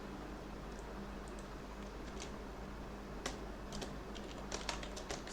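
Java code is typed on a computer keyboard, with faint scattered key clicks coming in short irregular runs over a quiet room hum, without speech.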